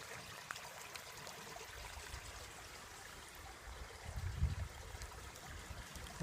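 Water washes gently and continuously over sediment in a gold pan while prospecting in Alaska, a soft steady trickling and sloshing with a slightly louder swirl near the end.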